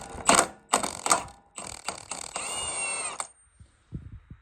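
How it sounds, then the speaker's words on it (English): An impact wrench removes the flywheel bolt on a Briggs and Stratton V-twin engine, firing in several short rattling bursts followed by one longer hammering run, close and loud, then a few light clinks of parts. "I'm going to take this off with an impact."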